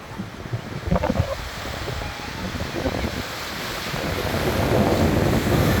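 Gentle sea waves wash onto the sandy shore of Gazala Beach in the Abyad area of Marsa Matruh, a steady low surf rush with wind noise on the microphone, swelling slightly toward the end.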